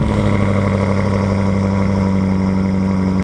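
A BMW M5 Competition with a stage 1 remap drives along, its engine a loud, steady, deep drone that holds evenly throughout before cutting off abruptly at the end, with no talk.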